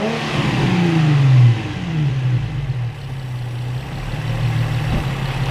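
A Nissan G35-family car engine revs up, holds a high rising whine, then drops back to a steady idle rumble close by.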